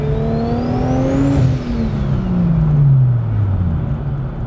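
A turbocharged S-chassis car revving hard, the engine pitch climbing then dropping back with a turbo whine, loud and close, no voices.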